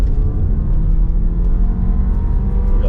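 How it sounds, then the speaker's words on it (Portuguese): A Jeep Compass hybrid accelerating hard on a kickdown in hybrid mode, a steady loud engine rumble and whir heard close and continuous, with no talk over it. "Eu não vou fazer um 0 a 100 aqui, mas vou dar um kickdown."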